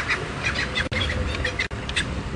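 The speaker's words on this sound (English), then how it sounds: "Well, except those birds." Several birds call and quack steadily at close range in the open bush during an early-morning safari drive, with a continuous chorus of chirps and squawks and no talking.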